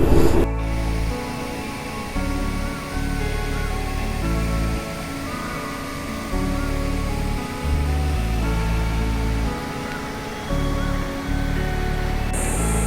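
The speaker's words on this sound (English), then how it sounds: "I think you can hear water flowing, right?" Steady rushing flow of water at Konam Reservoir, a continuous broadband wash heard close and fairly loud throughout, with no voices over it.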